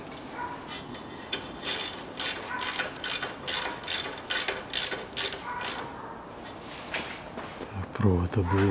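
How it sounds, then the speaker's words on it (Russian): A ratchet wrench tightens the rear shock absorber nut on a 1998 Toyota Mark II JZX101, sending out close, rhythmic runs of crisp clicking strokes while someone talks over parts of it. "И затягиваю амортизатор."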